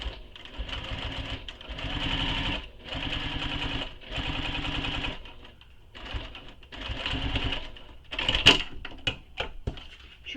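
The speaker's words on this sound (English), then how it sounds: "Now I'm going to top stitch this all the way across to help hold this in place." A sewing machine top stitches across a pocket on a convertible handbag, running in several steady whirring bursts with short pauses between them, then a few clicks and small taps near the end.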